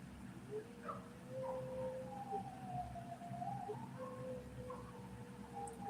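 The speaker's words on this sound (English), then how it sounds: "Now they're all howling." Several dogs howl together in long, wavering, overlapping tones, fairly faint and distant, on a homestead.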